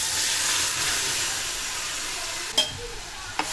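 Broccoli paste hitting sautéed chopped onion in a hot pan gives a steady close sizzle and hiss, with a couple of brief scraping stir clicks near the end.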